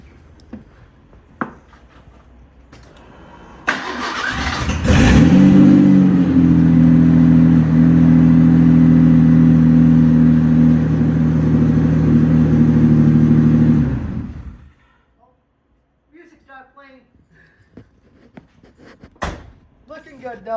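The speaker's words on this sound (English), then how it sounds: "We'll give the Bronco a good old start up and see how" A 1988 Ford Bronco II with a newly fitted exhaust cranks and fires up, then holds a loud, steady throaty idle with slight revving for about nine seconds before shutting off, with a few knocks and brief talk around it.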